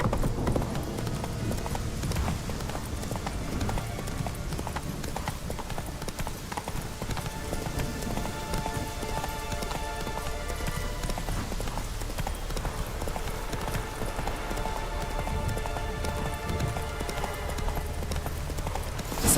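Roach, Geralt's horse in The Witcher 3: Wild Hunt, gallops in a steady hoofbeat rhythm over a continuous bed of game music, with no voices, across most of the clip.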